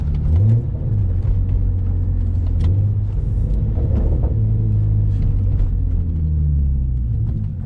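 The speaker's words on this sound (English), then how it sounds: "You know, here's a little downshift." A manual stick-shift car engine rumbles loudly and steadily from inside the cabin through a downshift, its pitch sliding as revs change, with no voices over it.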